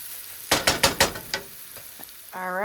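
Onions sautéing in a pan for homemade French onion dip, heard as a quick run of five or six scraping stir strokes over a soft sizzle, followed by quieter taps, then a rising tonal hum at the end.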